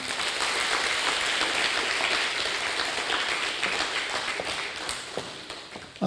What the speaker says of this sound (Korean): 박수로 한번 맞이해 주실래요?